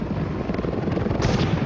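A helicopter arrives in a film scene, its rotor chopping in a steady loud pulse throughout, with a brighter swell toward the end.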